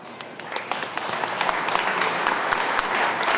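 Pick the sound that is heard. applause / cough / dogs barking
applause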